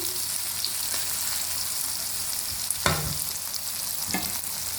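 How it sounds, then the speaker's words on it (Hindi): Stuffed okra (bhindi) fries on a low flame with an even, gentle sizzle throughout, broken by a few sharp spoon knocks against the pan. "और इसको बिल्कुल लो फ्लेम पे हम फ्राई करेंगे"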